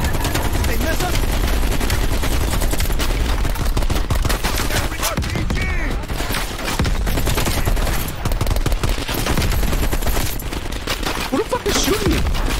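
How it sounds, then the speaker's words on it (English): Loud, sustained automatic gunfire in the Call of Duty Black Ops Cold War campaign's Vietnam helicopter mission, rapid bursts rattling almost without pause, with voices shouting over the din. "Who the fuck is shooting me?"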